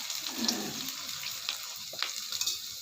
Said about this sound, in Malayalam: ഇനി വെളിച്ചെണ്ണ ഒഴിക്കുകയാണ്. ആദ്യം ഉള്ളി, അരിഞ്ഞു വെച്ച ഉള്ളി ഇടണം.